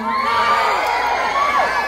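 A crowd at a Miss Gay pageant festival in Labuin, Philippines, cheers, whoops and shouts loudly, with high voices blending into a continuous roar.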